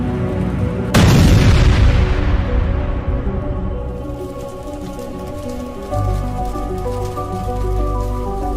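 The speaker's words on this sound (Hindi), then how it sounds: "और तभी बुल्ली की कार जाकर उस गाड़ी में टकरा जाती है, जिससे एक जोर का धमाका होता है" A single loud explosion booms suddenly, then fades into a long rumbling tail with steady background noise.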